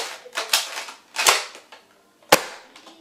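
A toy Nerf gun fires in sharp, snappy pops, several quick shots close together followed by a louder single crack, near and crisp with brief silences between.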